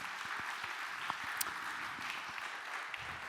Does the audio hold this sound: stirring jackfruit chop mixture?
no